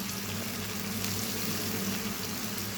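Spice paste tipped into a hot pan while cooking Bengali-style ghugni gives a steady, even sizzle and bubbling hiss that runs unbroken throughout, fairly quiet, with no talking.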